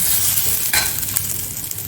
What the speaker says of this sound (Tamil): இஞ்சி பூண்டு பேஸ்ட் போட்டு வதக்கிட்டு அதில் மஞ்சள் பொடி,